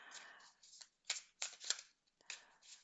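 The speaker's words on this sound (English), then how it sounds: "let's start and draw our first cards" Oracle cards drawn from a deck and handled, several short crisp papery shuffling and sliding bursts with quiet gaps between them, close and soft.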